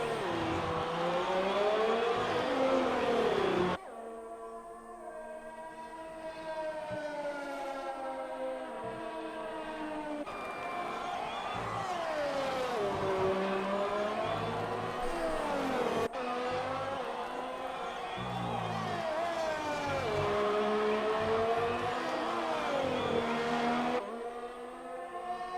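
An F1 race car engine on a hot lap in an F1 esports racing game at the Russian Grand Prix: a loud, high-pitched engine wail that rises repeatedly through the gears, with sharp shift breaks and long sustained pulls.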